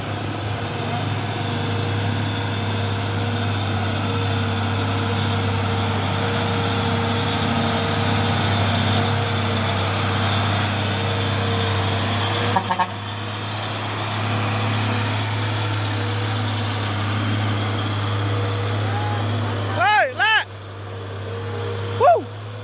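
A Hino isotank trailer truck's engine idles with a steady low rumble, close and constant, while a person talks over it and a brief horn-like tone sounds near the end.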